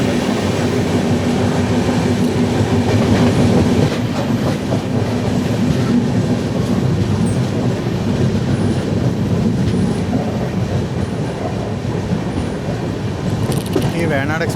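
Loud, steady rumble of the Venad Express running toward Aluva station, heard from on board, with rhythmic wheel clatter over the rails, a brief faint squeal and a continuous low roar throughout.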